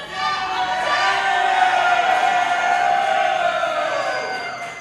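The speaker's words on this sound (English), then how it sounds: "I can't hear myself over the boos" Loud, dense crowd roar at an indoor women's wrestling event, a sustained wall of voices and jeers filling the whole stretch without letting up.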